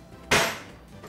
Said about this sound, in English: I've got two pieces of ginger here, about an inch each, and I'm just going to pound these